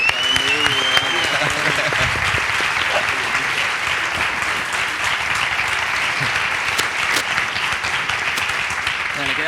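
Audience applause during a music band interview, continuous loud clapping throughout, with voices and a few shouts mixed in early on.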